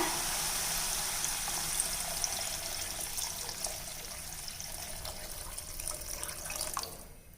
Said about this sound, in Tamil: இப்போ தண்ணி சேர்க்க போகிறேங்க